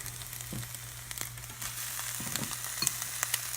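Chopped ham frying in butter in a pan, a steady close sizzle with occasional soft stirring scrapes and light crackles throughout.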